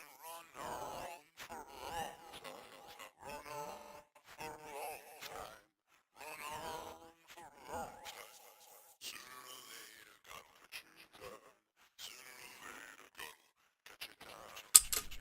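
A voice processed through the Audiomatic circuit preset, without reverb or delay, in chopped slice-and-dice fragments with a crunchy, gritty top end, coming in short choppy bursts separated by gaps.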